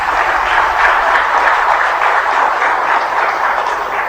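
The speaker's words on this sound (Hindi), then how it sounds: "तालियां भगवान के लिए" An audience at a live religious satsang breaks into sustained, even applause, many hands clapping in a continuous wash that holds for several seconds without speech.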